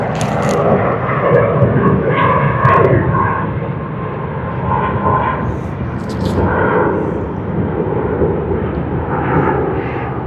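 A Juneyao Air Boeing 787-9 lands at Sydney Airport with a loud, sustained roar of jet engines and rushing air that holds steady and close throughout.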